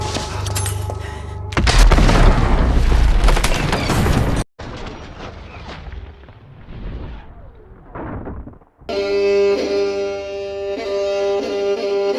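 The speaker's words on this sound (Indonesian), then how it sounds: "Watson mengejar Blackwood tanpa sengaja memicu Claymore meledakkan seluruh bangunan" A Claymore mine sets off a roaring, sustained blast that destroys a whole building in an action film. Rumbling debris and quieter crashes follow, then an orchestral music cue takes over.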